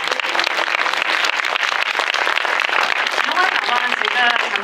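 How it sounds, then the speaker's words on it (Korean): An audience at a film screening and talk applauds the directors and actors, a dense, steady wash of clapping from a large crowd, loud and sustained with a few voices mixed in. "모든 감독님과 배우분들에게 먼저 박수 부탁드립니다"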